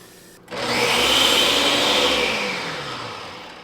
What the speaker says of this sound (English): This is how I clean my blender as well.